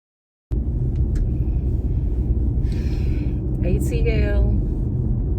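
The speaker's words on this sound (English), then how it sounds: "right now I'm sitting in traffic on the expressway coming through downtown Atlanta" Road traffic on an expressway through downtown Atlanta, heard from inside a car in a jam as a constant loud low rumble with faint passing whooshes.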